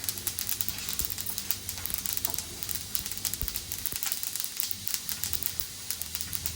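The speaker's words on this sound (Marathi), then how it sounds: "कुरकुर कुरकुर असा आवाज येतो चांगला मसाल्याला" Whole spices such as bay leaf crackle and pop as they dry-roast on a hot pan for chicken Kolhapuri, a soft sizzle with frequent small close crackles and no talk.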